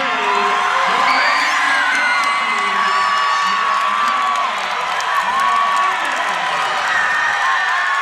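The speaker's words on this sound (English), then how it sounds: "You hear the absolute raucous crowd here" A loud, raucous crowd at a Hardrock MMA fight night in Heritage Hall, Lexington, cheering, whooping and shouting continuously, with a voice talking over the din.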